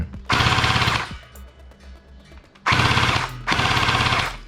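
An electric P90 gel blaster fires on full auto in loud, close bursts: a rapid rattling buzz of about one second and a half, a pause, then two more sustained bursts back to back.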